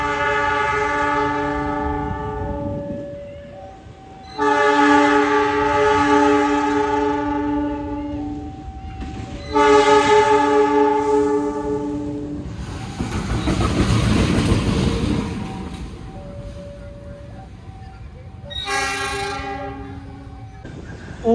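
A diesel locomotive being sent from the Sancaka train service back to Sidotopo depot sounds long, loud, chord-like horn blasts repeatedly while rumbling along the tracks at a railway, the horn recurring over steady engine noise.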